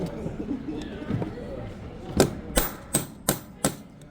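Someone speaks briefly, then a hammer strikes a metal punch held in a hinged jig to pierce copper sheet, giving five sharp, ringing metallic taps at an even pace, close and loud.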